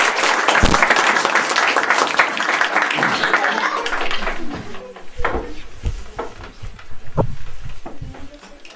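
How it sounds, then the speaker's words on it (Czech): An audience claps in applause at a Jára Cimrman-themed children's event, loud dense clapping for about four seconds that thins into scattered claps, with voices breaking in over the fading tail. "A teď všichni zatleskejte."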